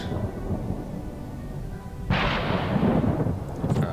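Thunder from a lightning storm in the video game Planetbase rumbles low and steady, then a loud crack breaks in halfway and settles into a heavy, rolling roar.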